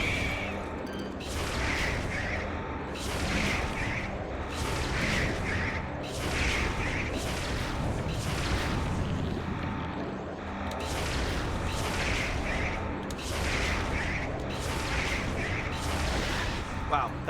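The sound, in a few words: missiles firing in a Metroid video game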